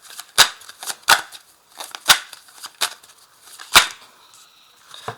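Tarot cards are shuffled and five are drawn one by one from the deck, sharp papery snaps and slaps spaced irregularly across the moment with softer riffling between, close and clear with no talking.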